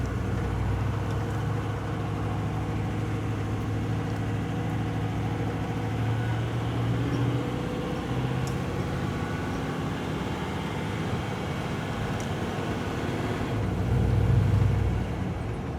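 A car's engine easing off the gas and then rolling back onto the throttle, a steady low drone from inside the vehicle that swells briefly near the end, with no talking.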